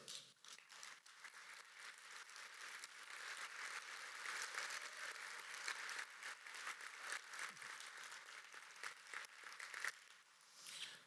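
Audience applause at an innovation event, a sustained round of clapping from a large crowd, faint and distant-sounding, swelling in the middle and thinning toward the end.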